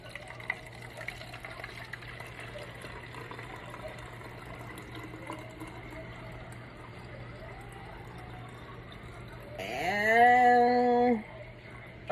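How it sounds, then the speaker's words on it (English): Sugar-water nectar being poured into a hummingbird feeder, heard as a short, gurgling pour near the end whose pitch rises as the container fills, after a long quiet stretch of low background noise. "Okay, I'm going to pour it in here."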